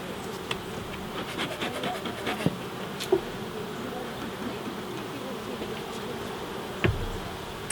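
Honeybees hum steadily around an opened hive being inspected, a close continuous buzz with occasional knocks and scrapes of wooden hive parts being handled.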